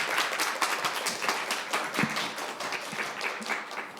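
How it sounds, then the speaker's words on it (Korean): Audience applause for author Im Kyung-sun after her lecture at a youth culture festival, a steady dense patter of many hands clapping at moderate volume for several seconds. "우리 임경선 작가님께 다시 한번 큰 박수 부탁드리겠습니다"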